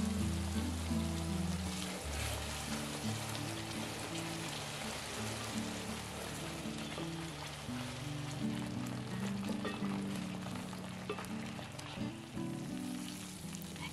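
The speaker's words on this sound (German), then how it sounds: "Oder für das haltbare Chutney kochen wir es weiter, so dafür Öl erhitzen. Senfsamen, die pürierte Mischung und Zucker hinzufügen" Tomato-garlic chutney with mustard seeds cooking in hot oil, a steady crackling sizzle with low bubbling, under background music, no talk.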